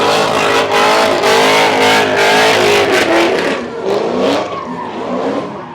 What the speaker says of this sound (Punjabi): ਆਵਾਜ਼ ਬਹੁਤ ਜ਼ਿਆਦਾ ਆਉਂਦੀ ਜਦੋਂ ਗੱਡੀ ਲਾ ਕੇ